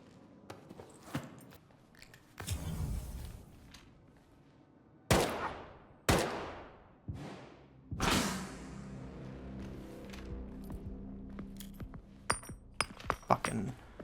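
Gunshots from a firearm in S.T.A.L.K.E.R. 2: Heart of Chornobyl, several loud sharp cracks with ringing tails spaced a second or so apart, one followed by a longer rumbling decay, then faint clinks and small clicks.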